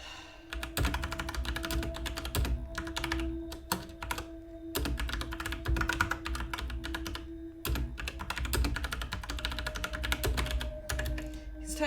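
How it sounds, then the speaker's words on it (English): Steady keyboard typing in The Infectious Madness of Dr Dekker video game: rapid, continuous clicking over a low background hum, with a couple of short pauses and no voices. "He's typing"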